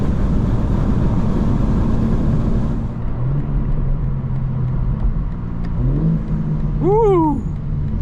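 A 2025 BMW M4 Competition xDrive engine revs and accelerates during a night drive through Atlanta, a loud close engine note rising in pitch, easing off, then climbing again in a quick final surge.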